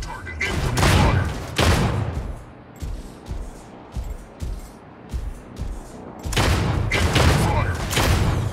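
Gunfire in the mech combat game Mech Arena: heavy booming bursts at the start and end, with lighter rhythmic thuds between, dense and loud, with a game voice speaking over parts of it.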